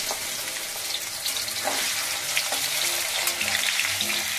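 Potatoes dropped into hot oil in a kadai after black cumin seeds, a loud steady sizzle and crackle with faint clinks of stirring, close up and without talk.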